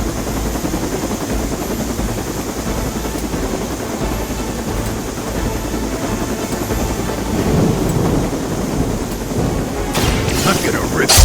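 Helicopter in the video game Marvel Midnight Suns, a dense continuous rotor rumble and wash under battle effects, growing louder toward the end with sharp impact bursts.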